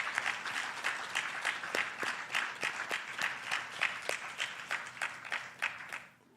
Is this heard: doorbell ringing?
no